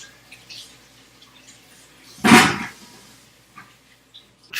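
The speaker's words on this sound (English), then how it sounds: "you might want to give it just a little bit of a rinse" A short burst of water from a kitchen sink tap splashes over a cucumber being rinsed, a single rushing gush lasting under a second amid quiet room sounds and faint drips.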